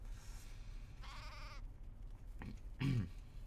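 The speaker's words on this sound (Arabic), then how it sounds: "يا الخروف ليش ما تقول خروف؟" A sheep in the video game Craft The World bleats a few times with short, wavering cries over steady background noise, with a louder final bleat near the end.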